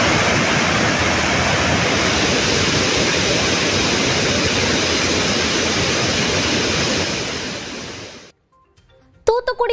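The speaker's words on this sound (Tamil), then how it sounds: "மணிமுத்தாறு அருவிக்கு நீர்வரத்து அதிகரித்துள்ளது" Manimuthar waterfall pours down with heavy flow after rain, a loud, steady, dense roar of crashing water that runs unbroken for about eight seconds and then cuts off into near silence.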